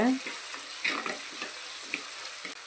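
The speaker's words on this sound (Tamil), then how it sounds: "நூறு கிராம் அளவுக்கு சின்ன வெங்காயம் எடுத்திருக்கேன் கூடவே கருவேப்பிலை சேர்த்துக்கலாம் நல்லா வதக்கி விடுங்க" About a hundred grams of small onions (shallots) and curry leaves sauté in a pan for a village-style anchovy fish curry, giving a close, continuous sizzle broken by light stirring scrapes.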